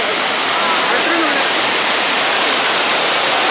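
The Courtallam waterfall roars loud and close, a dense, unbroken rush of falling water that fills the whole clip, with a faint voice barely audible beneath it.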